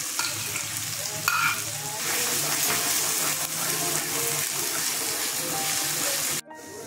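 Spice paste hits a pan of frying ginger, garlic and onion for an egg and potato curry, giving a loud, continuous close sizzle with stirring scrapes that cuts off abruptly near the end.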